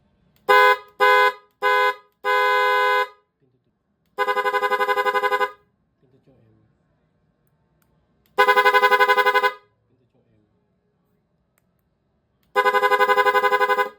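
An aftermarket loud horn on a Honda ADV 160 scooter, fitted with a plug-and-play wiring harness, sounds close and very loud. It starts with three quick toots and a longer blast, then gives several sustained honks separated by silent gaps.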